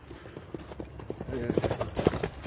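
A horse walks with rhythmic, close hoof clip-clops that grow louder toward the end, while someone talks over it.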